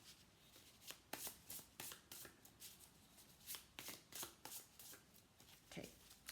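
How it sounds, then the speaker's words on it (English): A deck of tarot cards being shuffled in repeated quick riffles and slaps, close up, with soft rustling between bursts. "I think that's a lot of shuffling there going on"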